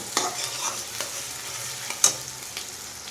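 Onions sizzle in hot oil for a homestyle chicken curry while a spatula scrapes and stirs them, the steady frying hiss punctuated by a handful of sharp clinks and scrapes up close.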